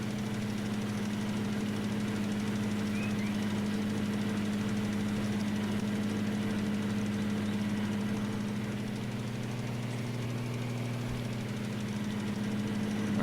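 Tractor engine in the Farming Simulator 19 video game, working a steep field while collecting hay bales, drones steadily throughout at a constant, moderately loud pitch with a slight knocking texture and no talk.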